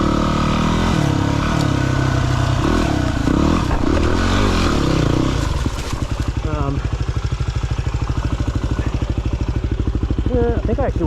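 Yamaha WR250R enduro motorcycle ridden over rocky trail, its engine droning loud and steady throughout, shifting to a rhythmic thumping pulse partway through with scraping clatter.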